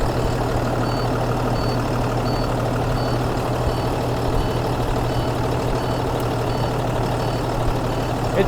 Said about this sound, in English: Engine running, sounds great.